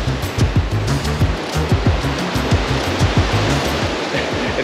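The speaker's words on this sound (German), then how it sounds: "Man kommt den Wellen doch schon nah." Ocean waves break against the big rocks of a coastal path near Puerto de la Cruz in a loud, continuous roar of surf with rhythmic low surges, close at hand.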